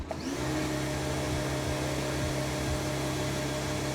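A Lakoni Basic 50 CL compact jet cleaner runs steadily, spraying water at its widest nozzle setting: a loud, continuous motor and pump drone with no speech.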